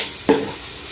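Spice powders tipped into a hot, sizzling pan for a soya bean side dish, one quick scrape or stir near the start over a constant frying hiss, close and brief, with no talking.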